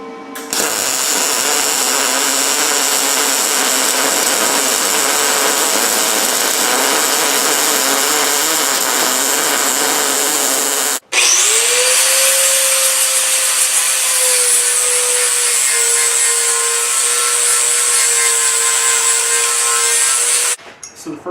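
A welder runs beads on steel coilover mounts for a Jeep TJ axle, giving a loud, steady electric crackle and hiss up close. The arc breaks briefly near the middle, then restarts for a second long run before stopping.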